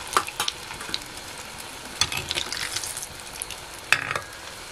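Medu vada batter frying in hot oil over a wood-fired chulha, a soft steady sizzle broken by sharper crackling bursts as batter drops in, close and without talk.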